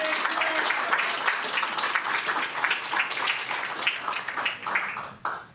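At a city council meeting, citizens and staff give a round of applause: a roomful of steady clapping that holds for several seconds, then thins out and stops near the end.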